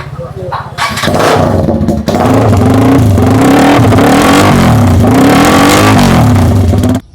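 A modified TVS Apache 4V motorcycle with a bend pipe exhaust starts up and revs loudly and repeatedly up close, its note rising and falling for several seconds.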